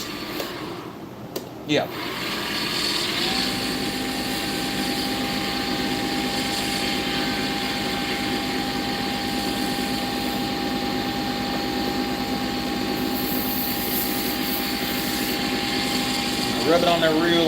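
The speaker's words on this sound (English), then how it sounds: "Turn the lathe back up" Wood lathe spinning up and running steadily, a sustained whirring motor hum with a rising whine after a brief quiet start, close and fairly loud, with a short spoken word near the beginning.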